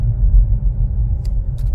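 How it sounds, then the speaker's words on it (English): Mercedes W222 S550 engine after a paddle-shift downshift into first gear, a loud steady low rumble with a couple of faint clicks near the end. "And I'm gonna downshift again. Now I'm at 1."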